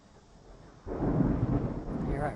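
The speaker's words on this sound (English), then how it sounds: "We got lots of thunder coming on now." Thunder rumbles in, starting as faint background noise and then swelling abruptly into a deep, loud, rolling boom that carries on to the end.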